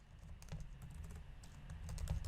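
Rapid, uneven clicking of computer keyboard keys while code is typed, steady and close throughout with no voices, over a low background hum.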